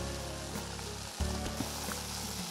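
Buñuelos de viento sizzling steadily in hot frying oil, a continuous close crackle with a brief louder burst of spitting midway, no voices.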